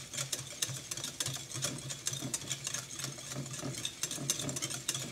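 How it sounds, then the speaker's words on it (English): Egg yolks and butter are whisked vigorously together for hollandaise sauce over a low stove, giving a steady, fast run of light metallic scraping and ticking against the bowl. "we're going to whisk vigorously so that the butter and the egg yolks emulsify"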